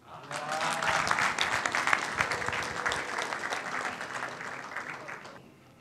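An audience applauds as the logo for the Democratic Republic of Congo's golden jubilee (fiftieth anniversary) is unveiled at a ceremony. The steady, dense clapping holds for several seconds and then eases slightly toward the end.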